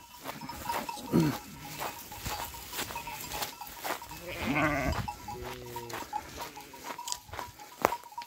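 Several sheep bleat in short, wavering calls spread across the clip, close by in a wheat field, with faint outdoor noise and scattered clatter between them.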